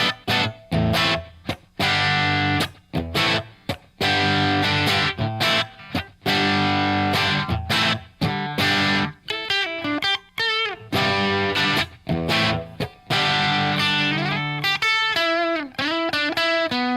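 Electric guitar with low output pickups through a good amplifier, loud overdriven chords in choppy rhythmic bursts with short gaps, later sliding into bent lead notes, no talking.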